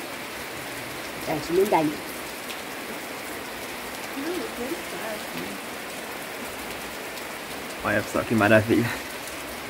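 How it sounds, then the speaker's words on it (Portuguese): Steady November thunderstorm rain hisses down close by, a constant patter on surfaces while people chat now and then over it. "Chuvinha aqui"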